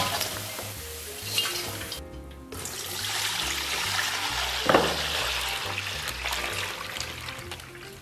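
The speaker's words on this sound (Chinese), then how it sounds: "咱们这小火慢炸，炸至微微焦黄以后给它捞出。" Pork belly slow-frying in oil in a wok over low heat for Mao-style braised pork, with a steady, bubbling sizzle that carries on throughout, broken by a brief stir and a short splashy burst midway.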